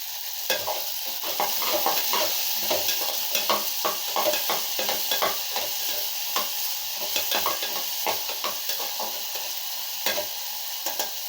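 Onions, green chilli, garlic and ginger sauté in a pan, a steady sizzle broken by repeated scrapes and clicks of a spoon stirring, close and continuous with no talking.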